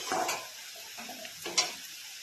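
Garlic fries in a pan for a Bengali chicken curry, giving a soft continuous sizzle with a few stirring scrapes and light clinks, close and quiet with no talk.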